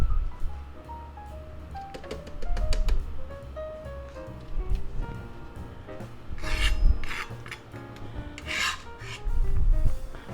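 A carrot is rubbed against a hand grater in a home kitchen while a cabbage pie is prepared, producing close, scratchy rasping strokes in uneven bursts that grow louder toward the end.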